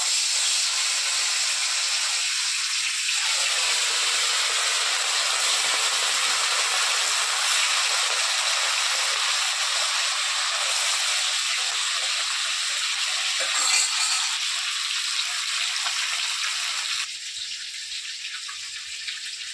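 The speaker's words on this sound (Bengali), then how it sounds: "তেলটা গরম হয়ে গেছে দেখুন কড়াইয়ে। এবার আমি মাছগুলো ভেজে নেবো।" Katla fish pieces frying in hot oil in a kadai, a steady loud sizzling hiss that fills the whole stretch and eases slightly near the end.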